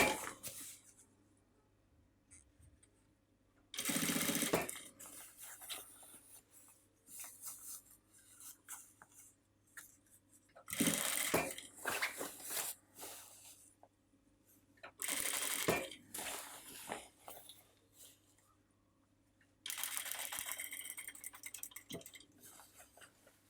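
A sewing machine stitching a seam about one centimetre in, heard as several separate bursts of loud close whirring of a few seconds each, broken by quiet stretches with faint handling of fabric.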